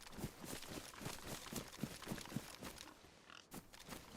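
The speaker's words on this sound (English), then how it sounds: "Pig." Pig grunting in the survival video game DayZ, a series of faint, rhythmic low grunts over steady outdoor background noise, with no talking.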